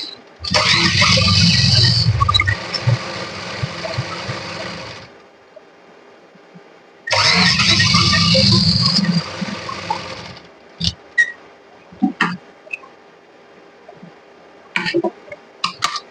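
A sewing machine stitches a folded fabric handle onto a makeup pouch in two loud, steady whirring runs of a few seconds each, then stops, leaving scattered clicks and handling of the fabric.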